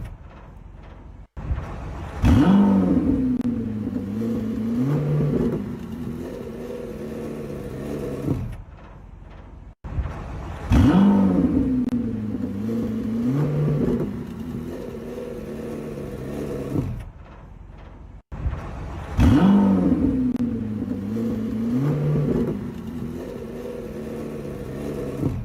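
A supercharged Corvette E-Ray engine revs three times in succession, each a loud, close rise in pitch that holds and falls back to idle before the next blip.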